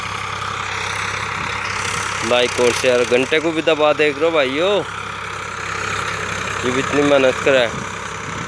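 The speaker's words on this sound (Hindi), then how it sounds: "देखियो कितनी बढ़िया चाल चल रहा। ट्रैक्टर का तोड़ नहीं ऐसा चला" Farmtrac 60 tractor engine running steadily at a moderate idle throughout, a continuous low drone heard close by under someone talking loudly over it.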